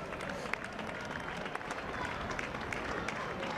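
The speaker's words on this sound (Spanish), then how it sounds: "Doncs sentim aquests aplaudiments aquí al carrer en Sant Clavé" A street crowd on Sant Clavé in Granollers claps for runners passing during the La Mitja half-marathon, a steady patter of scattered applause at moderate distance, faint overall with some voices mixed in.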